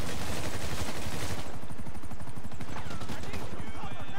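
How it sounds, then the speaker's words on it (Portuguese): Rapid gunfire with a helicopter overhead in the video game GTA Online, loud rattling bursts of shots under a player's voice talking over the action. "Eu tô tomando muito tiro, cara."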